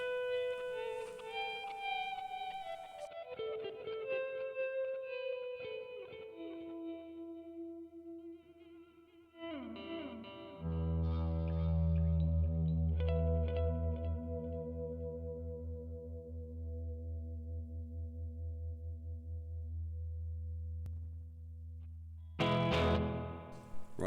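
A clean-toned electric guitar played through a Line 6 Pod 2.0 effects unit rings out in sustained notes and chords with chorus and echo, picked phrases giving way to long decaying tones before a final burst.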